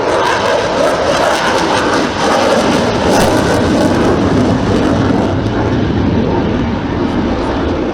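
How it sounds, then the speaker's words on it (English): A Spanish military aircraft from ALO 11 at Morón de la Frontera flying at the Torre del Mar airshow, a loud continuous roaring engine drone filling the whole stretch without pause. "This aircraft comes from ALO 11, based at Morón de la Frontera."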